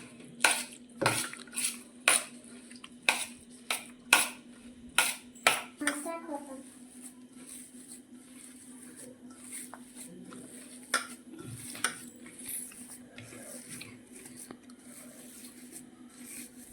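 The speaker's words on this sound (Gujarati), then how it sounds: "હવે આપણે વટોણા બાફ્યા હતા તે નાખીશું હવે બધું આપણે મિક્સ કરી લઈશું" A metal spoon clinks sharply and steadily against a pot while boiled peas are stirred into samosa filling, about a dozen close knocks over a few seconds, then sparser taps and a faint sizzle as someone talks.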